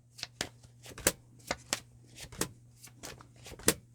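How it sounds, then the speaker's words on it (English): A deck of cards being shuffled, with a series of crisp riffling bursts and snaps in an irregular rhythm, close and fairly loud, over a faint steady hum, with no talking. "Let me shuffle the deck for my Scorps out there"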